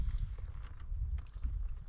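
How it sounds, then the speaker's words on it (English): A team of Percheron and Belgian draft horses walking, their hooves clip-clopping in an irregular steady rhythm, moderately close with low rumbling background noise. "This is a nice team of horses"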